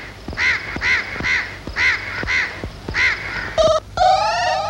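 A crow caws in a comedy scene, with about seven sharp, evenly spaced calls that are loud and close, followed by a brief burst of other bird-like chirping at the end.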